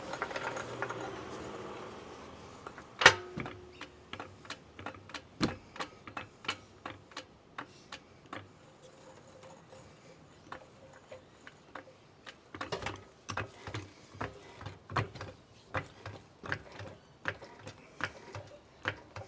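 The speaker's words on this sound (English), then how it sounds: "lift the vehicle with the trolley jack from the rear of the vehicle" A trolley jack is pumped under the rear of an 11th-generation Toyota Corolla, giving a steady series of close mechanical ticks and ratcheting clicks at an even rhythm, with a sharper knock early on and no talking.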